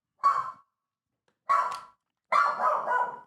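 A dog named Farley barks excitedly at someone arriving indoors, three sharp bursts of barking spaced about a second apart, the last one a longer run of yaps, fairly close and with no talk over them.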